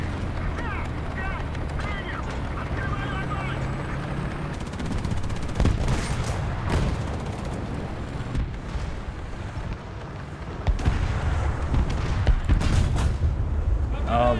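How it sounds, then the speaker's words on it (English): Tank guns and gunfire in the War Thunder video game, bursts and booming shots over a dense rumbling battle din, loud and continuous, with voices talking over it. "Lay down some covering fire, Bobby."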